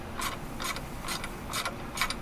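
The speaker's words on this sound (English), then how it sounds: "Now we can remove the bolts holding this shield into place." Ratchet turning bolts off the engine shield of a 2002 Dodge Stratus or Sebring, with about five short bursts of rapid clicking spread evenly across the clip, close up over a low background hum.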